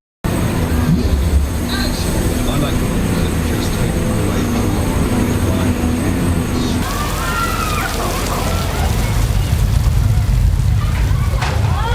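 A Universal Studios Hollywood tram rolls along with a loud, continuous rumble and rattle that shifts in character about halfway through, with faint voices in the background.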